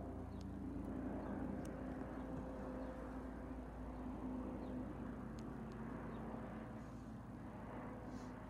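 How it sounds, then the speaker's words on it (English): An NPAS police Eurocopter EC135 P2+ circles over Bournemouth, its steady low rotor and engine drone faint and distant, holding an even level throughout. "The police helicopter."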